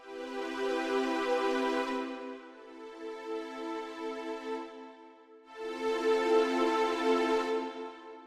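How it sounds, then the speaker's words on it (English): Lush synth strings from the Logic Pro smooth strings patch play two long swelling chords with a softer passage between, warm and sustained, no voices. "Smooth strings sounds something like this."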